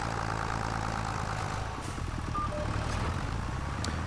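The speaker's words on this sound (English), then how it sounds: "this tractor seems like it's not powerful enough" A tractor engine in a ranch video game idling and running steadily, a low, continuous rumble at a constant level with a faint beep, no talk.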